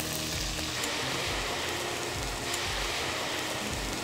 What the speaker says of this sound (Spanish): ahora vamos a usar un chorrito de vino y vamos a ver si podemos flamearlo